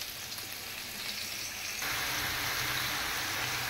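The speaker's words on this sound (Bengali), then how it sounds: "চিংড়ি মাছ আর পেঁয়াজ তেলের মধ্যে ভাজতেছি, মশলা কষাইয়া।" Shrimp and onion frying in oil with spices, a steady close sizzle that jumps louder partway through as more goes into the pan.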